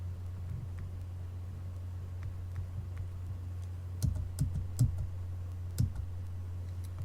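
Keys are pressed on a graphing calculator during a table lookup: a few soft, close clicks, scattered and then grouped near the end, over a steady low hum.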